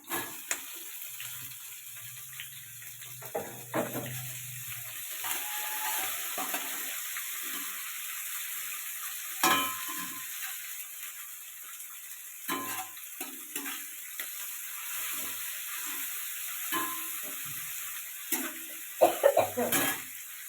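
Tomatoes and onions frying in a pan for chicken thokku give a steady soft sizzle with scattered stirring clinks and scrapes throughout, close and moderately quiet.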